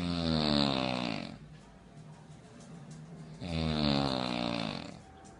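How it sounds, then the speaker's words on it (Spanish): A woman snoring loudly, two long rasping in-breath snores a few seconds apart, close and harsh, with quieter breathing between. "El autor del clic de YouTube comparó el ronquido de la chica con el sonido de la turbina de un avión"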